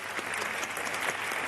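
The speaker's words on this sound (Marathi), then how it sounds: "जोरदार टाळ्या झाल्या पाहिजेत." Studio audience at a Marathi singing reality show erupts in loud, sustained applause, a dense wash of many hands clapping steadily with no talk over it.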